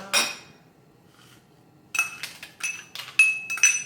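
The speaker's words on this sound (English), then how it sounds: "I'm going to be using this ladle to just make sure that they get stirred nicely." A metal ladle stirs dry chili peppers in a pan for an eggplant stir fry, giving a sharp clink near the start and then a run of quick, bright scraping clatters after a quiet gap.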